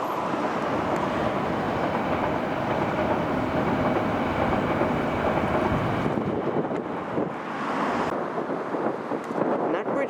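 Loud, steady rumble of a London Underground Metropolitan Line train rolling past close by over a bridge across a canal for several seconds, with wind buffeting the microphone, then fading somewhat toward the end.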